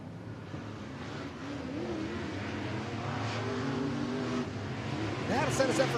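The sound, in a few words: IMCA modified race car pulling down to the infield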